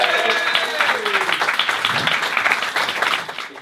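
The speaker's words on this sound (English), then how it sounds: "So have a round of applause." A comedy show audience applauds, with dense clapping from a crowd filling the room over a few seconds while a voice carries on faintly underneath.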